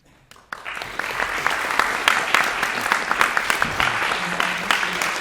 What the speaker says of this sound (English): I'm actually going to ask you all to clap again in a minute